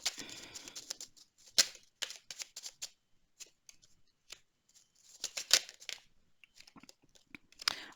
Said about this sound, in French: Alors, on va tirer des cartes.